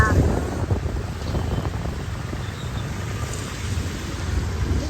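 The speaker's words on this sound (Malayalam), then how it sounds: "മഴ മഴ" Steady, heavy rain falls outdoors with low thunder rumbling underneath and gusts of wind buffeting the microphone, dense and continuous throughout.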